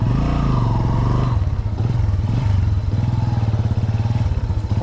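A Bajaj Boxer motorcycle pulls away on rough village roads, its single engine humming steadily and close, with a slight lift in revs and some rattling clatter as it gets underway.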